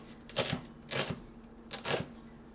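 Knife chopping onions on a cutting board, three quiet separate strokes spaced about half a second apart.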